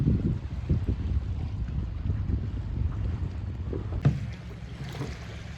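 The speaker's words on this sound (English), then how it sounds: "here we are on Flathead Lake, just floating along with our kayak" Kayak drifting on Flathead Lake, Montana, with steady low water lapping and wind buffeting the microphone, continuous and close, followed by a brief knock near the end.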